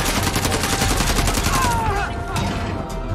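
Rapid automatic gunfire in the video game Call of Duty: Modern Warfare Warzone, a loud, close, steady stream of shots, with a faint voice underneath.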